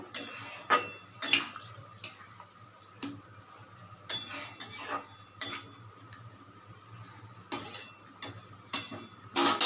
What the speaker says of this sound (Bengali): পোস্ত পোস্তটা দিয়েও ভালো করে মাখিয়ে দেব